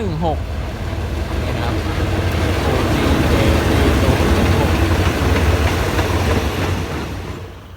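GEK 4016 diesel locomotive hauling Thai ordinary train 258: a loud, close, heavy engine drone that swells slightly and then eases off toward the end.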